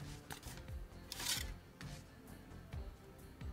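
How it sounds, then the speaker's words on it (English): Foam strips are cut for a diorama landscape inside an ostrich egg, giving close, soft snipping and rubbing sounds in short irregular bursts with a quiet room behind them. "For the landscape I first cut out some foam strips."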